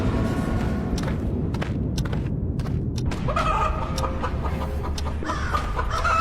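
Hens cluck and a rooster crows amid a busy, noisy farmyard with other birds calling in the background.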